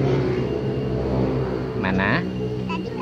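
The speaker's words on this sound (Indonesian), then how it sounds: "Itu jalan kawan-kawan, tuh mobil-mobil tuh." Cars travel along a cold mountain road on the slopes of Mount Lawu near Sarangan, with a steady engine rumble and a brief rev or pass mid-clip, while people talk over it.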